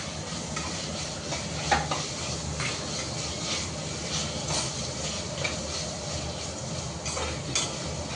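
Tomato slices and onion fry in a pan for prawn pulao, a steady soft sizzle with occasional stirring scrapes and clinks, close and moderately quiet, no voices.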